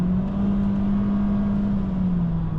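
Engine of a 2024 Honda Civic Sport hums steadily after a manual-mode gear shift, a loud, even low drone that sags slightly in pitch near the end, heard from inside the cabin with no talk.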